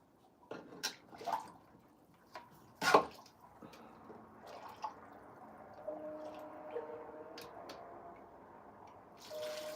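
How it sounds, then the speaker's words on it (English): Liquid, broth and then water, is poured into a bowl of tamale masa mix, giving faint splashes and drips in a few short bursts, followed by a thin, steady trickle close by, with no talking. "I'm going to do 1 cup of the broth and then the other 2 cups water"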